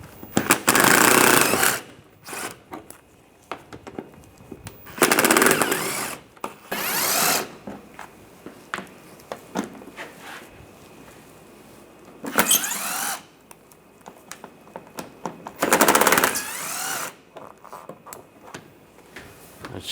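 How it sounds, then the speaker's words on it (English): A power tool with a 7mm socket spins out small screws along the front underside of a 2010-2016 Cadillac SRX, in several short whirring bursts separated by quiet pauses and faint handling clicks. "Underneath here, there's screws, little screws all along the front. You're going to take those out. Use a 7mm socket."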